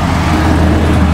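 Large trucks and buses roll past on a busy, dangerous roadside, a steady close rumble of heavy traffic with no break and no voices.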